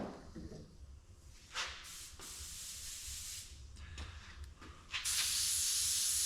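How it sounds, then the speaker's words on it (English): Short bursts of airy hissing spray from an airbrush test spray start and stop a few times, then a louder, sustained hiss takes over near the end. "I always do a test spray just to see how my fluid's flowing"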